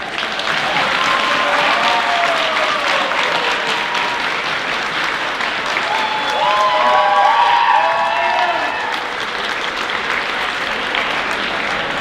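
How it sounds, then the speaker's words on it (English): Sustained applause with some cheering from a crowd at a high school student recognition assembly, filling the room steadily for the whole stretch, with a few shouts and whoops rising in the middle and no speech over it. "huge round of applause"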